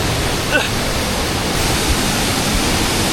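Huay Kaew waterfall near Chiang Mai pours as a steady, dense broadband rush, close and loud throughout, with a brief faint voice-like sound early on.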